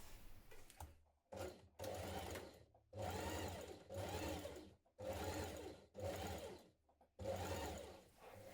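A domestic sewing machine stitches around a dress collar in loud, close bursts of whirring, about seven runs of roughly half a second to a second each, with short pauses between them. No voices are heard.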